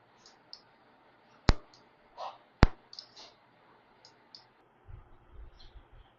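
Sharp isolated clicks from the pause button on an elbow CPM device, two prominent taps followed by several softer ticks and faint mechanical noises in a quiet room.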